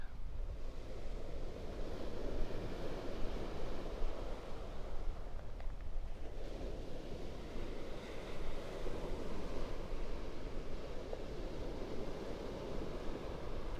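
Ocean surf rolls onto the beach at Pawleys Island at sunrise as a steady, broad roar of breaking waves. Wind buffets the microphone throughout, and the sound stays constant with no voices.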